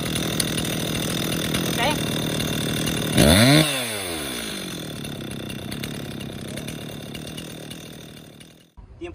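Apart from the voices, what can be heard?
Dewalt DCPS620B cordless pole chainsaw running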